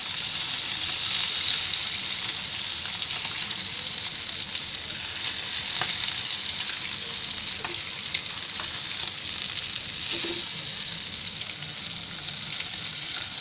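Bangda mackerel coated in rawa shallow-frying in hot oil over low gas: an even, continuous crackling sizzle that stays steady throughout, punctuated by occasional faint clicks of the pan, without speech.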